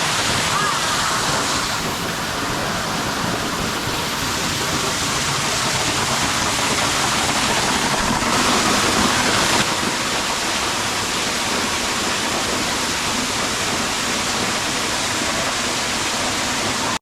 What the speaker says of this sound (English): Behind we saw the big cachoeira, the waterfall.